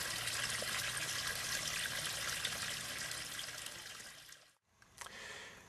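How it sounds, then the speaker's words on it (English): Steady rushing water pours for several seconds as a pipe system is flushed into a rainwater collection pool, loud and continuous, then briefly stops before a short gush resumes. "So while we're flushing the system, we're collecting that water into our rainwater collection pool"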